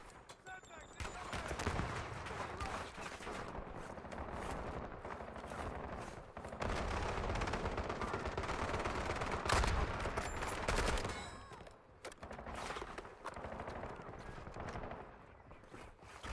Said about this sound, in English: Got 2 sniper rifles coming at you.